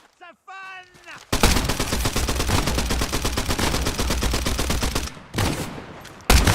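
Video game gunfire: after a brief vocal sound, a rapid machine-gun burst erupts loud and close, firing continuously for several seconds, then stopping and resuming in shorter bursts.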